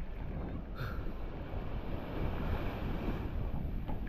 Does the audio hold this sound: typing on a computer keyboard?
no